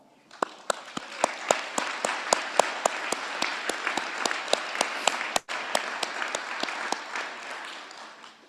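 A room full of people at a commencement ceremony claps steadily, bright sharp claps layered into a dense, even wave that holds for several seconds with a brief dip near the end.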